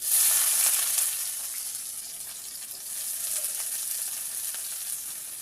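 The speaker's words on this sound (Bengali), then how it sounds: "এবার পেঁয়াজটা দিয়ে দেবো আমি।" Sliced onion frying in hot oil with dried chillies, a sharp sizzle that bursts loudly at first and then settles into a steady, softer crackle.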